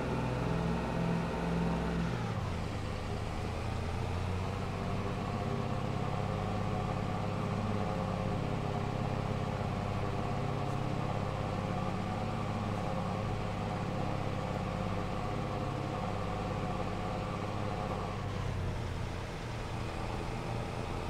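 A VW Passat Kombi drives in Farming Simulator 22, its steady engine drone and road hum running continuously at even level, with a slight shift in tone early on and near the end.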